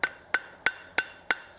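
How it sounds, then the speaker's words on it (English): Five evenly spaced, ringing hammer blows on forged steel as a maple leaf bowl is shaped over an anvil horn, each strike sharp and metallic with a short decaying ring, heard alone. "Hammering that right up over the horn."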